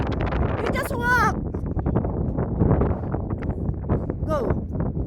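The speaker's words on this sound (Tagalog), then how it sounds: "ang lakas ng hangin" Strong gusting wind buffets the microphone outdoors on a farm while cows are being fetched for milking, a steady rumble under a woman's and children's voices calling out nearby.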